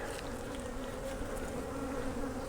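Agitated honey bees swarm around an open hive during a frame inspection, a dense, steady, close buzzing drone that fills the clip with no talk.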